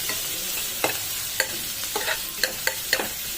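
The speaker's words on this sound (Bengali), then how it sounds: "তার জন্যই রসুনটাকে আগে ভেজে নিচ্ছি" Garlic and green chili frying in a pan for raw jackfruit fritters, a steady soft sizzle with a few sharp clinks of a stirring spoon against the pan, close and alone.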